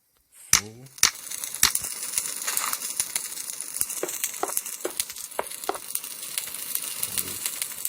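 Fire being lit on wood in a fireplace: a sharp strike and flare at the start, then steady crackling and sizzling with scattered pops, close and moderately loud.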